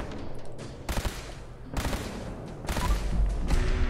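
Gunfire in Fallout 4 during a fight at Fort Strong, three loud bursts of rapid shots spaced about a second apart over steady background game noise.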